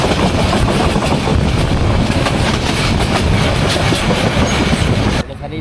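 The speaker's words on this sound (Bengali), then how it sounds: "এখন আমাদের ট্রেন এই ক্যান্টনমেন্ট স্টেশন থেকে ছাড়লো।" Tista Express, an 18-coach Bangladeshi passenger train, pulling out of Dhaka Cantonment station: loud, steady rumble and clickety-clack of wheels on rails heard from on board, continuous for several seconds before dropping away abruptly at the end.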